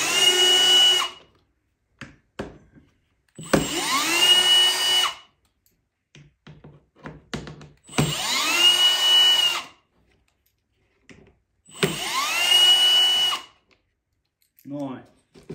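A power drill spins out four screws holding a Ski-Doo snowmobile display. Four whirring bursts of about a second each are separated by quiet gaps with small clicks, recorded up close.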